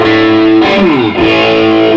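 An electric guitar plays through a heavily driven distortion pedal, a loud sustained chord with a bending note in the middle, alone and close.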